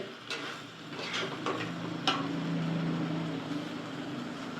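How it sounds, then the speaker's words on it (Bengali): Chicken being stirred and fried in a pot for homemade biryani, with faint sizzling under a few sharp clinks and scrapes of a spoon against the metal pot. "এবার মাংসটাকে কষিয়ে নিতে হয় ভালো করে"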